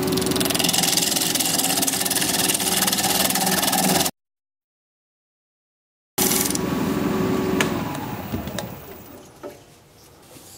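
A woodturning lathe spins at about 1250 RPM while the outside of a cracked wooden blank is shaped, a loud steady whirring drone that cuts out for about two seconds, resumes, and then fades as it winds down.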